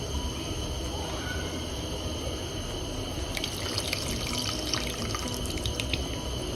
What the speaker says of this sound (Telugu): ఇప్పుడు చింతపండు నానబెట్టుకున్నాం కదండి, ఇందులో కొంచెం వాటర్ వేసుకొని